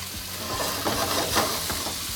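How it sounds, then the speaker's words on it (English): Onions, tomatoes and jalapeno sizzle in a hot pan while being stirred, a close, steady crackling hiss with soft scraping strokes of the utensil, no voices. "You always want to start with a hot pan. Get that sizzle sound going."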